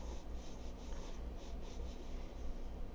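Pencil sketching an egg shape on paper, a soft continuous scratching and rubbing close up, faint, with rhythmic strokes and no talk.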